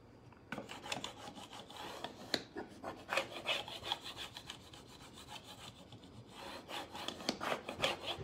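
A stick tool rubs a decorative transfer down onto a wooden washstand, giving soft, raspy back-and-forth scrubbing strokes in quick irregular bursts, close and quiet, with no talking.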